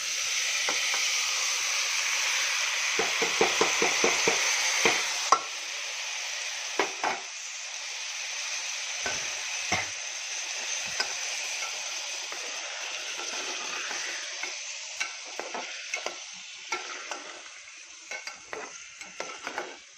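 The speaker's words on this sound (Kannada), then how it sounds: "ಇದು ಸ್ವಲ್ಪ ಒಗ್ಗರಣೆ ಒಳಗೆ ಫ್ರೈ ಆಗಲಿ" A ground paste of coconut, roasted gram, sesame, curry leaves and garlic frying in a tempering, a continuous hissing sizzle broken by repeated scraping and clacking of a spoon against the pan.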